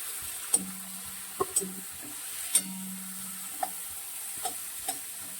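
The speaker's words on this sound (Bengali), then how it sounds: "এখানে পটলগুলো ভাজা হয়ে গেছে।" Pointed gourd (potol) pieces fry in a pan as a spatula stirs them, giving several sharp scrapes and taps at irregular intervals over a quiet, soft sizzle.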